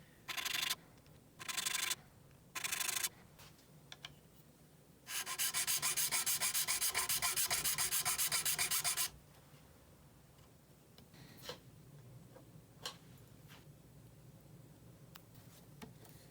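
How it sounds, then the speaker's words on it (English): A standard triangle file rasps back and forth in the nut slots of a custom guitar. First come three short strokes, then one long sustained run of filing, then quiet with faint scattered clicks. "So I'm just using a standard triangle file here, registered in those little slots to be able to create a better spot for my nut files."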